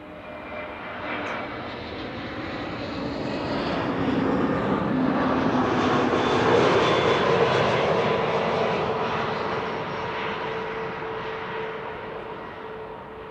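SAS Airbus A320neo arriving from Stockholm at Schiphol Airport, a jet engine whine that swells gradually as the airliner passes, peaks in the middle and then fades away, with no talking.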